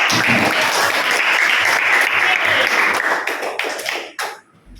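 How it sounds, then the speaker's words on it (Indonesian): A classroom of students claps together in a dense, sustained burst of applause that thins into a few scattered claps and stops near the end. "Kita kasih tepuk tangan sekali lagi semua"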